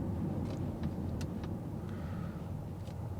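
A 2014 Volvo V60 2.4 D5 diesel with Geartronic transmission drives along, its engine a low, steady rumble heard faintly from inside the car with continuous road noise and no talking.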